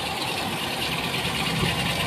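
A 1994 Toyota Kijang Grand Extra engine idles smoothly and steadily, a constant, even hum without changes in pace.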